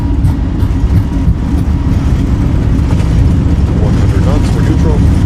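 Airliner jet engines at takeoff power in Microsoft Flight Simulator, a loud, steady low roar and rumble with a broadband whine, continuous throughout, with a voice talking over it.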